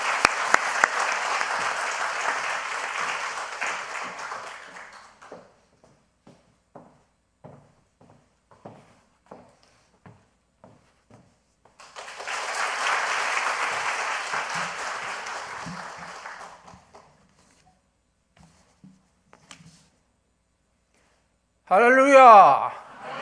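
Applause in a church rings out twice to welcome a speaker, a long burst of clapping that fades into a few scattered claps and then a second full round, followed by speech.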